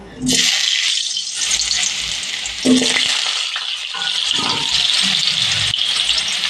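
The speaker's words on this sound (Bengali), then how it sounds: "আলুটা একদম নরম করে ভাজবো" Loud, dense hiss of potatoes frying in hot mustard oil, with brief low stirring knocks now and then.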